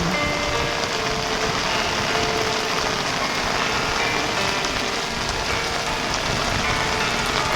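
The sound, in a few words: rain falling at Igorot Stone Kingdom, Baguio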